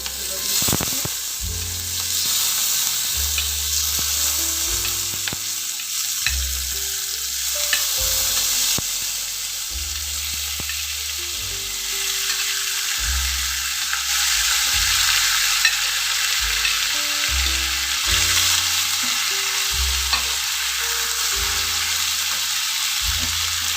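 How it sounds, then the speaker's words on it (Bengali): Vegetables stir-fry in a small amount of oil for restaurant-style Indo-Chinese prawn Manchurian, a steady close sizzle punctuated by scraping stirs and clatter, heard under background music. "তেলটা আমি কিছুটা কমিয়ে নিয়েছি, নিয়ে এবারে আমি এই সবজিগুলো দিয়ে দেব।"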